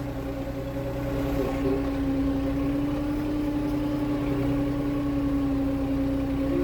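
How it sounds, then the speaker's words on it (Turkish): A steady Erkunt tractor engine drones continuously while the tractor is driven through a village, the mid-pitched idle-like hum loud and even throughout with no voices. "Motor güzel traktörmüş."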